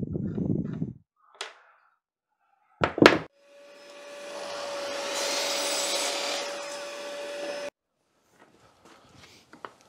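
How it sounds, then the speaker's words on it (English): A chop saw cuts a section out of wood for an octagonal planter, a few knocks and clunks first, then a loud sustained whining cut with a steady motor tone for about four seconds before it stops abruptly, followed by faint handling noises. "I'm going to use my chop saw to actually take out that section of material"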